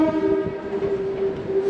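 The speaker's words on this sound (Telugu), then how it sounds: "ఉమ్దానగర్ స్టేషన్కి మన ట్రైన్ చేరుకుంది" A MEMU train pulling into Umdanagar railway station sounds one loud, sustained horn blast that holds steady, then cuts off abruptly.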